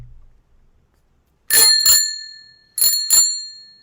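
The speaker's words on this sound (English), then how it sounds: "this is the bell right here, the topic bell" A bicycle-style bell rings as a topic marker, two sharp bright double dings in succession, each a quick pair of rings with ringing tails, loud and close against silence.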